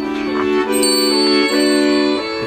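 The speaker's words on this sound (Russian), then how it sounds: "Колокольчик." A small bell rings softly and repeatedly in a steady, gentle rhythm, its bright tones lingering and overlapping.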